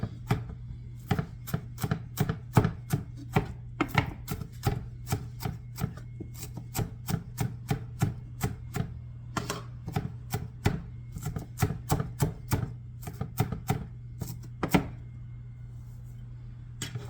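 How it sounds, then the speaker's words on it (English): A knife chops ingredients for chaurice sausage on a board, with a steady run of sharp, close, fairly loud strikes and no voices. "This is the last of the chopping that we have to do."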